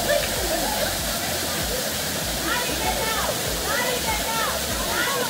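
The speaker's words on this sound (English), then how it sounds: "Come close to the waterfall." Steady, loud rush of a waterfall in El Yunque rain forest, Puerto Rico, fills the whole clip, a dense continuous roar with a voice faintly audible underneath.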